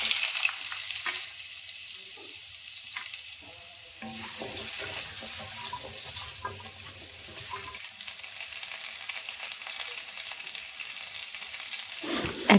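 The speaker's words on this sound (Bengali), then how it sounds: "ওই তেলের মধ্যেই এইভাবে কেটে রাখা আলুগুলোকে একটু ফ্রাই করে নেব" Cut potatoes fry in the oil left over from frying fish, giving a steady broadband sizzle that runs the whole time, with occasional stirring scrapes and no voices.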